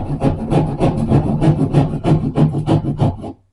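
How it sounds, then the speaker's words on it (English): A hand drywall saw rasps back and forth through a drywall sheet in quick, steady strokes, close and loud, stopping abruptly near the end. "I'm going to use a hand sheetrock saw"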